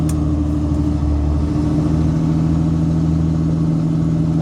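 A 2004.5–2007 Cummins diesel pickup engine drones steadily and loudly from inside the cab, a deep even hum with a constant tone and no pauses.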